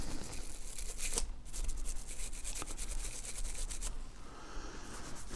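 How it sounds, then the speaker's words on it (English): Brush scrubbing the bolt face of a DB9RB rifle, a steady close scratchy rubbing with quick repeated strokes and a brief pause partway through, no voices. "Give that bolt face a good scrub."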